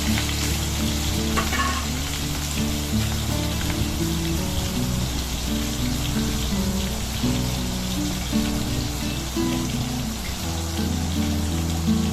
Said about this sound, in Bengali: এদিকে সব কটা আলু আমি ভেজে নিলাম